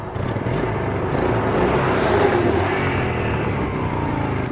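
An old Honda motorcycle engine, 46 years old and rusty, revving steadily and loud up close, a continuous rough roar that swells slightly midway and runs with no talking.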